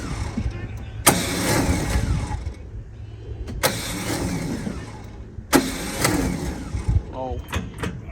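A 1994 Chevy S10 pickup needing a new starter cranks over in three separate sharp attempts, each a loud burst of starter grinding and engine noise that dies away, with a low idle-like rumble between tries.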